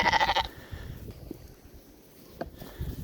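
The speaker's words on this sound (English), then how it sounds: "Here's our weaned lambs." Weaned lambs give one loud, close bleat at the start, followed by quieter farmyard ambience with scattered faint shuffling and a soft second call near the end.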